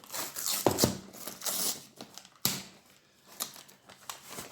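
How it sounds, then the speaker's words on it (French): Close, crisp crinkling and ripping as sticky tape is peeled off a cardboard box in several short, uneven pulls. "Je vais enlever tout le scotch."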